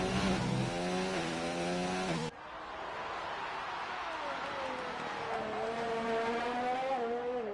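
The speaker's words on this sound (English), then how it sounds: "Looks like it is Kashtor who is about to start a flying lap in the Red Bull." F1 race car from a racing video game (Red Bull car, Azerbaijan circuit) accelerating into a flying lap, a loud rising engine whine shifting up through gears, then a sustained high engine note, with a commentator talking over it.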